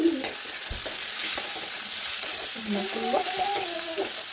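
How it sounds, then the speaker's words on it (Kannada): Carrots and beans stir-frying with tomato and onion for rava upma give a close, steady sizzle, with a few stirring knocks and some faint tonal chirps like birds in the background. "ಟೊಮೆಟೊ ಆನಿಯನ್ ಸ್ವಲ್ಪ ಫ್ರೈ ಆದಮೇಲೆ ಇದಕ್ಕೆ ನಾನು ಕಟ್ ಮಾಡಿ ಇಟ್ಕೊಂಡಿರೋಂಥ ಕ್ಯಾರೆಟ್, ಬೀನ್ಸ್ ಮತ್ತು ಮ್ಯಾಕಷ್ಟು ಆ್ಯಡ್ ಮಾಡ್ಕೊತಾ ಇದ್ದೀನಿ."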